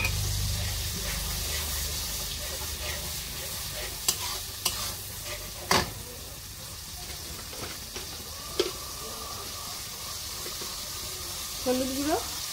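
Spice paste with cumin powder, coriander powder and turmeric being stirred and sautéed in a pan for a Bengali banana-flower and chana dal dish, with a steady sizzle and a few sharp spoon scrapes and clinks against the pan.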